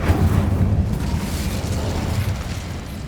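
A loud, rumbling whoosh of flame from an Incendio fire spell in Hogwarts Legacy, a dense burst that holds and slowly fades over a few seconds.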